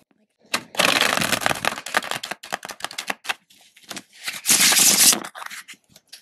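Bursts of plastic cards riffling and clattering, two longer fast whirring runs separated by scattered taps and shuffles, close and fairly loud.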